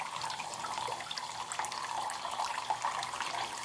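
Water trickles steadily through a small decorative lighthouse fountain indoors, a soft continuous splashing close by with no talk.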